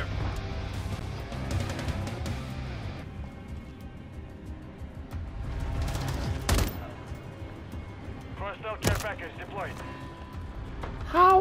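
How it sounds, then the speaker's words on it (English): Gunfire in a Modern Warfare III multiplayer match, faint bursts and scattered shots mixed with game voice callouts and effects, with a few sharper cracks standing out near the end. "Taking effective fire!"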